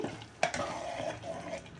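Masala for pithiki pappu curry sizzles in a pan while being stirred, giving a short close fry hiss with a sharp utensil scrape near the start.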